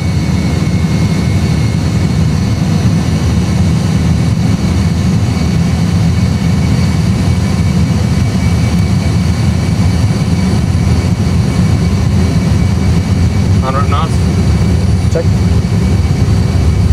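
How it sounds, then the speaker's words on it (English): Airbus A320 jet engines at takeoff thrust, a loud, steady low roar filling the cabin throughout, with brief voices from the cockpit crew. "Engine stable, setting thrust."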